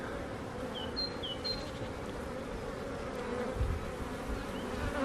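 Wild, non-domesticated bees swarm and buzz steadily around someone handling them, a dense continuous drone close by with a few higher passing whines and no talking.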